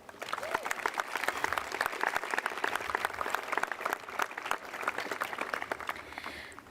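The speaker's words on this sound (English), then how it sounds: "let's hear a round of applause for the graduating class once again" Applause for the graduating class at a high school graduation ceremony, a large audience clapping steadily and fairly far off, with no talk over it.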